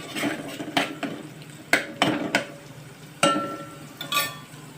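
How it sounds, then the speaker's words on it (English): A metal spoon scrapes and clinks against a pot while red chili powder is stirred on slow fire for a Goan ambot tik fish curry, with repeated sharp knocks and scrapes, close and loud, without talk. "Give it a thorough stir on slow fire."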